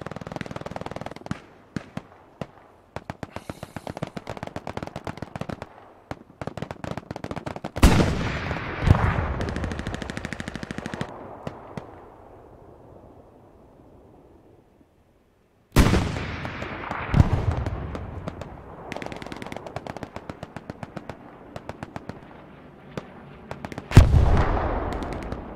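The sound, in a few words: machine gun gunfire in a video game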